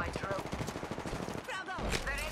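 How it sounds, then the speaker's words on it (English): Rapid gunfire rattles in the Helldivers 2 video game, a dense run of close shots followed by sharper sci-fi weapon bursts and zaps, with voices talking over the action. "I'm getting sniped at from over there."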